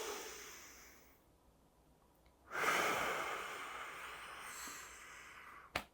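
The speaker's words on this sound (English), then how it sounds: "Everybody take a deep breath with me." One deep breath, close and quiet: a faint inhale, then a longer, louder breathy exhale that fades out, followed by a brief snort-like puff at the end.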